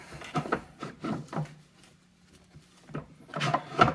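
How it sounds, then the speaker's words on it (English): Irregular wooden creaks and rubbing knocks come close by in uneven clusters, with a faint low hum running underneath during a quieter stretch. "My table's creaky."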